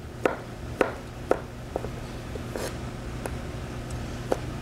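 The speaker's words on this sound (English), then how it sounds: "I'm just going to cut it in about the same bite-sized sections" A knife chops through a peeled kiwi on a cutting board, sharp distinct taps landing at an uneven pace, about eight cuts, close and clear over a faint background hum.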